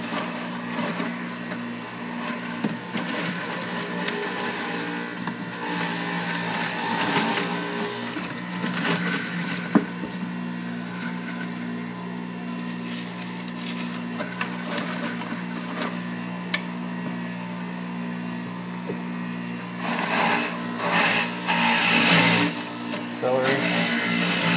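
Electric juicer grinds spinach with a continuous motor whine and churning, a steady drone that swells near the end as produce is pushed through.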